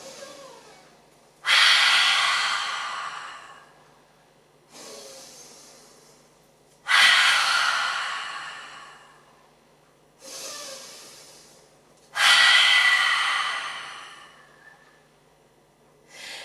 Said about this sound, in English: Inhale so that you can really hear that inhale.